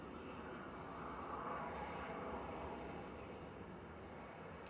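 Ryanair airliner from Santander at Manchester Airport, a faint, steady far-off jet engine roar with broad hiss, constant throughout and heard alone.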